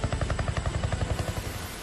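An Air Force rescue helicopter working during floods and landslides in Himachal Pradesh beats its rotor in a fast, even thumping rhythm, loud and close, with no talking.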